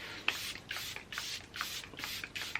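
Six quick, soft hissing spritzes from a pump bottle of Charlotte Tilbury Airbrush Flawless setting spray at a steady rhythm, close and quiet.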